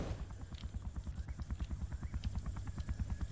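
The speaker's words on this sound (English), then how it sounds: "Is that our helicopter?" A helicopter in a Vietnam War video game flies overhead, its rotor beating in a fast, steady, loud chop that continues throughout.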